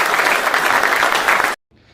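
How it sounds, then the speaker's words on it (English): A crowd at a team's spring football practice applauds a guest speaker, with loud, dense clapping for about a second and a half that cuts off abruptly. "Let's clap it up for him."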